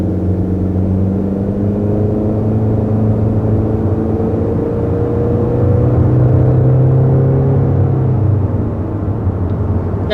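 Steady low hum and whir of a 2021 Honda Accord Sport SE's 1.5-liter turbo engine, heard from inside the car, smooth and constant, with a faint rising tone and no talk.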